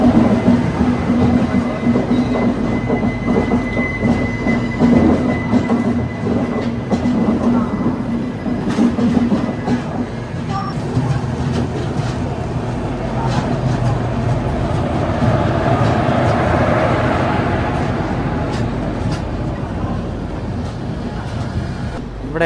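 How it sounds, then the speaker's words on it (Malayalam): The Janmabhoomi Express rolls along close by, a loud sustained rumble with rhythmic clickety-clack of wheels over rail joints and a faint squeal, with someone talking briefly over it. "ഇതാണ് ജന്മഭൂമി എക്സ്പ്രസ് കേട്ടോ"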